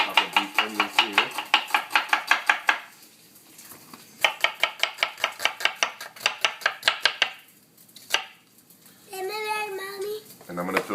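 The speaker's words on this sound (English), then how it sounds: "we're just going to chop up these onions here" A knife chops onions on a cutting board in quick, even bursts of close, crisp knocks, pausing between runs, with a brief voice heard near the end.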